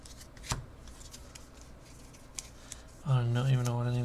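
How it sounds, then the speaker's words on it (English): Playing cards riffled into a deck for the Marvel Champions card game: a few soft shuffling bursts and taps in a quiet room, with a voice speaking over the final second. "Shuffle that side scheme into the encounter deck."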